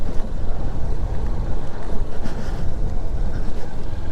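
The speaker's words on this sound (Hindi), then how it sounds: "सुन्न कर देने वाली हवा चल रही है बिल्कुल" Cold wind roars steadily across a high snowy mountain pass on a motorbike ride, a loud continuous buffeting rush battering the microphone with no voices.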